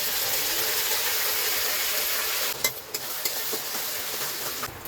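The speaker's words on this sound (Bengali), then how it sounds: "এবার আদা রসুন টমেটো পেঁয়াজ কাঁচা লঙ্কা একসাথে বাটা ছিল সেইটাকে ভেজে দেবো।" A paste of ground ginger, garlic, tomato, onion and green chilli fries in hot oil with a steady, broad sizzle. Partway through it is briefly stirred with a few soft scrapes.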